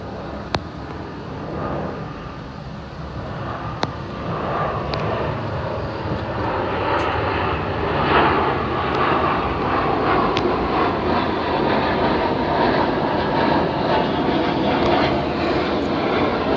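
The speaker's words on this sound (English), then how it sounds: "wait till this plane flies by." A fixed-wing airplane passes overhead with a steady, broad engine roar that swells slightly as it nears, holding loud and continuous with a few faint clicks on top.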